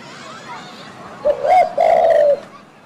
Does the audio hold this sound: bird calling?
yes